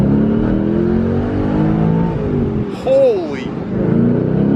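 A 500 hp LS V8 swapped Porsche 911 pulls hard on Arizona blacktop, a loud rising engine roar heard from inside the car that dips briefly as a passenger exclaims, then builds again.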